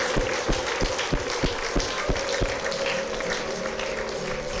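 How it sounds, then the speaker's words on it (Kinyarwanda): A church congregation claps together in a welcoming burst of applause with ululation, a steady wash of many hands forming a dense, continuous roar with rhythmic accents, close and loud, with no words spoken. "tumwakirize amashyi n'impundu byinshi cyane"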